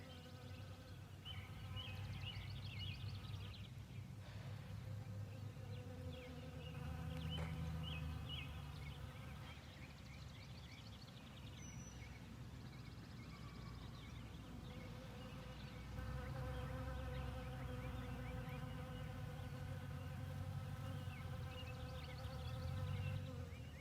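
Honeybees from a neighbour's fourteen or fifteen hives buzzing around giant poppies, a steady overlapping drone of many insects that holds at an even, moderate level throughout with no break.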